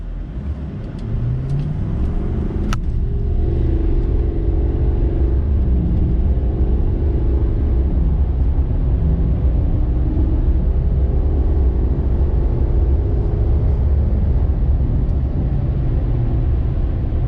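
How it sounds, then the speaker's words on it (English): Banks Power L5P Duramax diesel truck pulling away from a complete stop at wide open throttle, a loud, steady engine roar and rumble that climbs in pitch through gear changes and holds for many seconds with no talking. "I'm gonna stand on the throttle, give you guys an idea of what this looks like."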